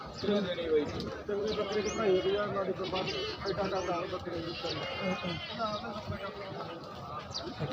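Several goats bleat repeatedly at a goat market amid a busy crowd, voices talking loudly over and between the high wavering cries.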